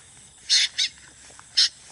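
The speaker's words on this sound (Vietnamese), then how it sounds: "đằng này có một con chim gì các bạn" Outdoor bird call near a bird trap: three short, bright chirps, two close together and one after a pause, fairly near against quiet background.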